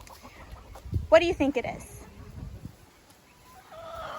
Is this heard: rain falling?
no